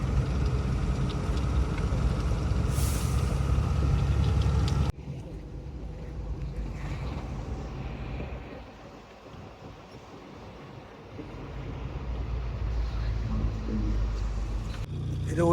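A container truck engine at full throttle in Visakhapatnam port drones loud and steady from inside the cab, then the tone abruptly drops and thins before the engine noise builds back up near the end.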